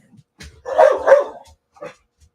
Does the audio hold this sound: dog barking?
yes